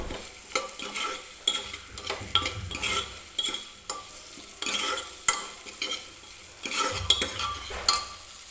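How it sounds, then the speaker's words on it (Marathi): Roasted field beans (pavta) frying with masala in a pan, with intermittent stirring scrapes and spoon knocks over a soft sizzle, close-up with no voices. "तर पावटा सुद्धा 1-2 मिनिटं आपल्याला या मसाल्यांच्या सोबत भाजून घ्यायचा आहे."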